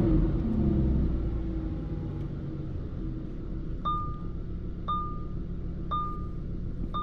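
Muffled engine rumble of a Lamborghini Huracan Sterrato 5.2-litre V10 on cold start, heard from the cabin as a steady low drone, with four evenly spaced electronic chimes sounding in the second half.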